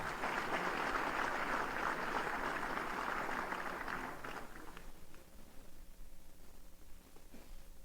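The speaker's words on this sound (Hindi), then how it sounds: "आप सबकी जोरदार तालियों के साथ" Audience applause at a Uttar Pradesh Police ceremony, a dense steady clapping from a crowd that holds strong for several seconds, then thins and fades toward the end.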